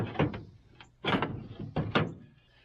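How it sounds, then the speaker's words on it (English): A skidder's metal door swings on its hinge and thuds shut, giving three separate clanking knocks spaced about a second apart, close and fairly loud. "Let me hinge this door back up."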